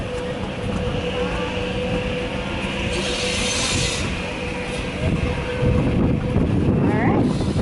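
A 1948 Case four-cylinder vintage tractor engine runs steadily with a continuous rumbling drone, loud and close, with a louder surge near the end and no talk over it.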